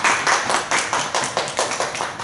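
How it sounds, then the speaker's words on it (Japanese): Audience applause with scattered handclaps at a small cultural talk event, a steady burst of clapping lasting a couple of seconds, close and moderately loud. "皆さん盛大な拍手をお願いいたします。"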